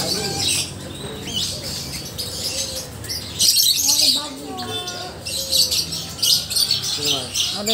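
Many birds at a bird market in Lombok, Mataram, keep up chirps, tweets and short whistled calls, some near and some farther off, over a busy background of crowd noise and people talking.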